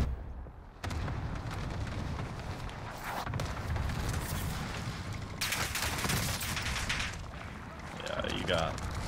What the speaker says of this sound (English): there's always somebody shooting in the back